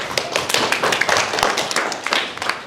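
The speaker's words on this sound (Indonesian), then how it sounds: "terima kasih, tepuk tangan dulu Isa" Classmates clap for a student in a history lesson, a brisk, close round of uneven applause from a small group of hands that runs steadily for a few seconds with no talk over it.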